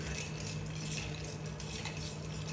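A bartender stirs a Manhattan cocktail with ice in a mixing glass, a steady, continuous clinking swirl of ice against glass with a soft liquid wash, close and even throughout.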